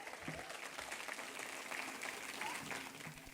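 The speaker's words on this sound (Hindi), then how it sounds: "तो तालियां तो बनती है." An audience at a school annual day claps in a sustained, fairly faint wash of applause, with a few voices mixed in.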